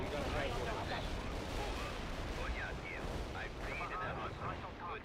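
Napalm strike in World in Conflict: Soviet Assault, heard as a dense, continuous rumble of fiery explosions and crackling bursts, fairly faint, with a voice talking over it.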